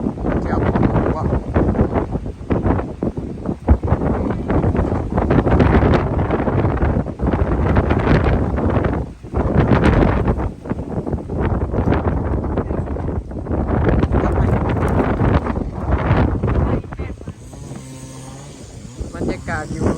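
Strong wind gusts across a rural garden where trees are being cut, buffeting the microphone with a steady roar that swells and drops in uneven surges.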